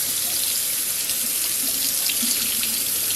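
Hot water runs steadily from a tap, pouring to rinse a dirty car polishing pad used on a scratched black truck; a constant, close hiss with no talk.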